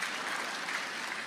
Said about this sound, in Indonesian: Ya, enggak usah tepuk tangan.